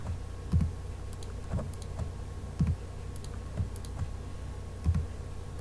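Computer keyboard keys and mouse clicks while modeling a minigun barrel in Blender, a series of close, crisp taps and clicks arriving in small clusters at irregular intervals over a quiet hum.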